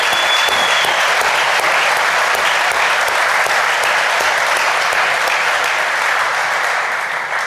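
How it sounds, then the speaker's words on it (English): A large round of applause at a Johnston County community meeting for Jeremy and Shelley Norris, loud, dense, sustained clapping from a crowd that fills the room and tapers slightly at the end. "give Jeremy and Shelley a large round of applause"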